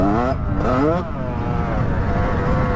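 A Yamaha 125 YZ two-stroke dirt bike running on old fuel drones steadily at close range during a forest ride, its engine note rising briefly then settling into a rough, continuous buzz.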